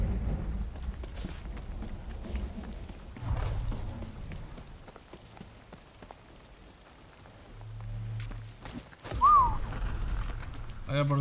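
A thunderstorm with steady rain in the video game The Cycle Frontier, with rain hissing on surfaces and low thunder rumbling at intervals. A voice talks over the storm and a brief chirp sounds near the end.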